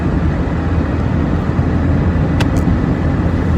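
Road traffic streams past in a constant, loud roar of car engines and tyres close at hand, with a brief faint high squeal partway through and no voices.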